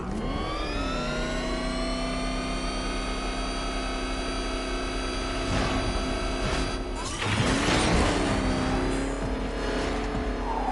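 The Batmobile's engine in Batman Arkham Knight drones with a steady, layered whine, rising and falling in pitch, with a burst of crashing, scraping impacts late on as it drives.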